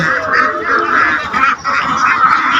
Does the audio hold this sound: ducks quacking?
yes